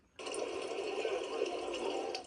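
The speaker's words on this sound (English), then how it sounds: "Rain floods Gaza's streets" Steady rushing of rain floodwater running through streets in Gaza, a continuous broadband wash that starts abruptly and holds at an even level throughout, fairly close.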